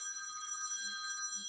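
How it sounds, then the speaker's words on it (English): A mobile phone rings indoors, a steady high electronic ringing tone with sustained bright pitches, fairly faint and continuous with soft low rustling beneath. "And that's a phone that I'm just going to ignore."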